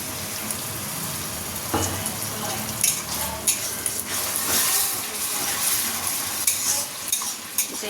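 Ground spice paste frying in oil for chicken curry gives a steady soft sizzle, broken by scraping stirs and clinks of a spoon against the pan, with no talking.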